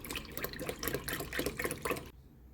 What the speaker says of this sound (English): First, you'll pour the entire gallon of milk into the Instant Pot.